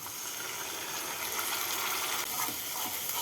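A little water is poured from a bowl, rinsing it out, into a cooking pot for mutton kofta curry. A steady, close splashing wash runs without pause throughout.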